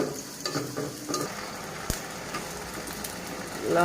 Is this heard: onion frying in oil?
yes